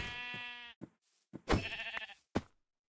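Sheep in a modded Minecraft game bleat in a short series of loud, close calls separated by brief gaps, with no talking over them.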